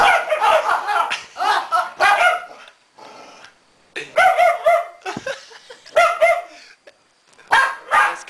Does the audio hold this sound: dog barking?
yes